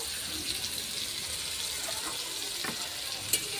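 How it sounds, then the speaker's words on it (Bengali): Slit green chillies fry with taro leaves and hilsa fish head in a pan as they are stirred, giving a continuous, close sizzle with faint scraping from the stirring. "আমি আবার একটু নাড়া দিয়ে দেবো।"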